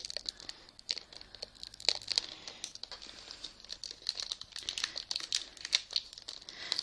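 Taped Pokémon card booster packs are opened by hand, with close, busy crinkling and tearing of the foil wrappers and tape in irregular bursts, growing denser toward the end.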